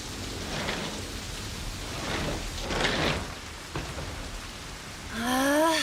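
Steady rain pours down in a dense, even hiss that swells slightly midway; a brief voice-like sound rises at the very end.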